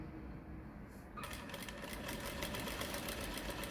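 A sewing machine stitches a dress seam, a steady, fairly faint whirring run that starts about a second in after a quiet moment and keeps going to the end.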